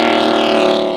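Supercharged V8-swapped BMW E30 with an expansion-chamber exhaust gives off a loud, steady, close-up drone with a buzzy higher resonance, held at an even level for the whole second.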